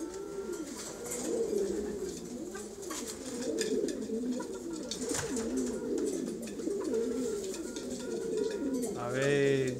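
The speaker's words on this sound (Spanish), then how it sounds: "El palomo estaba acollarado en el palomar" Domestic zureño pigeons in a pigeon loft coo in rolling, repeated phrases close to the microphone, keeping up a steady murmuring rhythm throughout.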